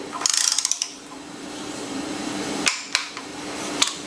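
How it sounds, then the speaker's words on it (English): Mechanical clicks and short metallic taps come from a torque wrench tightening the VANOS bolts on a BMW E36 engine, a busy cluster early on and then a few sharp isolated clicks against a quiet hum. "I like to hand tighten them and then hit them with a torque wrench."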